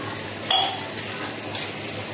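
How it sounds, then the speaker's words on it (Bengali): Water pours into a pan of fried chicken meat for biryani, making a steady close gush with a sharp metallic clink near the start and a softer knock later. "জল দিয়ে দিচ্ছি।"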